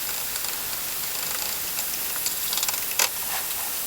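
Ground meat for lasagne sizzling in a pan, a dense steady hiss with a few brief louder crackles, close and continuous with no talking.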